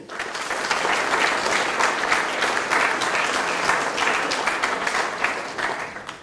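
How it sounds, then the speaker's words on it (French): At a New Year's wishes ceremony in Pineuilh, a hall audience applauds hospital and medical staff, a loud, sustained, dense clapping that swells quickly and holds steady with no talk over it. "je vous demande, mesdames et messieurs, de les applaudir très fort"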